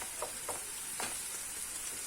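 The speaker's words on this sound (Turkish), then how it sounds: "Bir güzel kavrulsun soğanlar." Onions frying in a pan as a Turkish home cook prepares a multi-dish iftar meal, a steady close sizzle with a few soft stirring scrapes, heard alone without talk.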